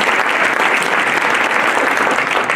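Loud, dense audience applause at a New Year's greetings ceremony in Isola, a steady wash of many hands clapping close by throughout, with no voices over it.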